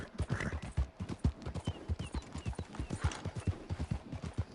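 Horse hooves pound in fast, rhythmic clip-clop while galloping at racing speed in the video game Red Dead Online, close and steady, with hoofbeats repeating quickly and evenly.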